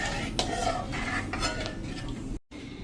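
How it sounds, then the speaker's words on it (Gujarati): A ladle stirs dhokli curry in a pot with continuous metallic scraping and clinking against the sides. The sound stays steady and close, then cuts out briefly near the end. "હવે આપણે આ બાજુ ચમચો પણ વચ્ચે ચલાવતા જ રહેશું, બંધ નહીં કરવાનો."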